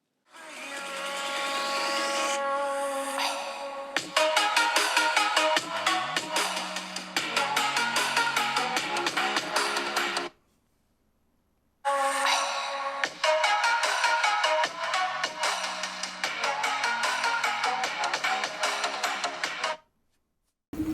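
A ringtone melody plays loudly through the dual loudspeakers of a Vivo X Fold 3 Pro, breaks off briefly into silence, then repeats on a Samsung Z Fold 6, each phone sounding for about ten seconds.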